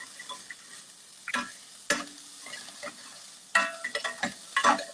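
Onions sauteing in a pan at home, a quiet sizzle under sharp intermittent stirring clicks and scrapes of a spatula, irregular taps rising toward the end, no voices.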